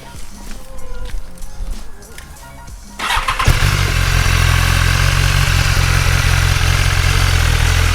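A BMW S1000RR motorcycle with its stock exhaust fires up after a few seconds of quiet background chatter, then settles into a loud, steady, close idle that holds without a break.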